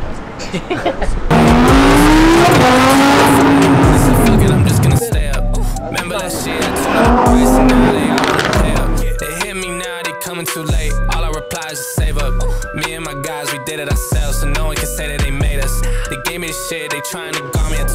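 Several Lamborghini supercars in Paris rev loudly and accelerate, with rising engine howls and tire squeal early on, followed by sharp throttle blips and crackling bursts; voices are heard faintly beneath.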